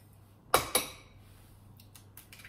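Two sharp taps sound close together as an egg is cracked against the edge of a bowl, followed by faint small knocks and a quiet background hum.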